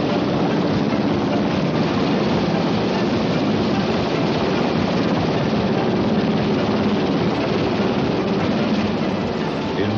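A 10-ton Seahawk helicopter flies from the small deck of an Aegis cruiser, producing a constant, loud, dense roar of rotor and engine noise that stays unbroken throughout.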